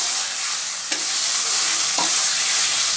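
Tomatoes and ground coriander sizzle in a pan for a light mutton curry, a steady close frying hiss broken by a couple of soft scraping stirs of a spoon, with no talking.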